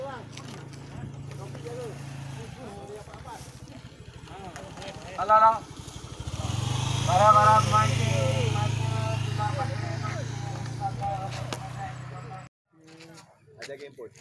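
A motorcycle engine runs beside a river at a fishing competition on Sungai Lurus, Batu Pahat. Its low, steady hum swells louder midway, then cuts off near the end, under constant chatter and laughter.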